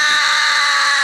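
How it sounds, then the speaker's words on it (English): A metal vocalist performs a layered fry rasp scream, a piercing, pterodactyl-like screech technique of the kind used by Japanese metal bands. It holds as one loud, steady, harsh shriek from start to end, with no talk. "when you fuse them together, you kind of get this like pterodactyl screech."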